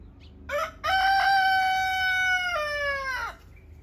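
A rooster lets out one long, loud, close cock-a-doodle-doo, rising at the start, holding steady and falling away at the end. There is no talk.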